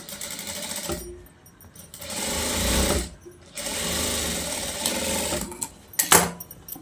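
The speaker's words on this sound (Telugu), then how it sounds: "ఈ నెక్కి ఎలా అయితే కట్ చేస్తామో సేమ్ అలాగే స్టిచ్ అయితే వేసుకుంటూ వచ్చేద్దాం ఇలాగా" A sewing machine stitching around the neckline of a long frock runs in three rapid whirring bursts, each separated by a short pause, the last one brief and close.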